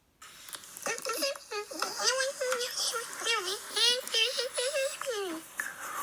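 A voice mimics a mouse with quick, high, wavering squeaks and chirps in a rapid, sped-up patter, close and fairly quiet.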